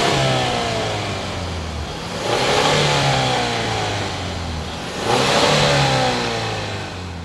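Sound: car engine revving

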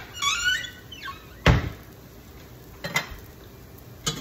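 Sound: plate being set down in kitchen

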